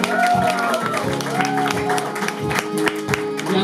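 Audience applause at a concert in a new studio venue in Hanau, a short burst of clapping from a small crowd, moderately close, with some voices mixed in.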